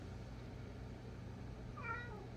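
A single short cat meow, faint over a steady low indoor hum, arriving near the end with no talk.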